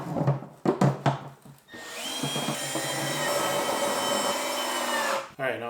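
A power drill drives screws into a plastic closet flange fitted to the bottom of a homemade PVC chicken and duck feeder. Brief talk and handling knocks come first, then a sustained whirring buzz that cuts off near the end.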